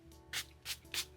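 Three short, close hissing bursts of Milani makeup setting spray from a pump bottle, evenly spaced about a third of a second apart, each one brief and breathy.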